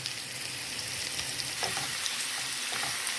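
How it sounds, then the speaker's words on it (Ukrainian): Vermicelli frying in hot oil while being stirred for a soup, a steady close sizzle with a few scraping clicks of the spoon, no voices. "Ось ретельно все обжарюю, помішуємо, щоб нічого в нас не згоріло."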